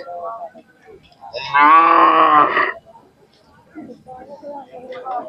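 A Khillar bull at a village fair gives one loud, drawn-out moo lasting over a second, with people talking nearby before and after it.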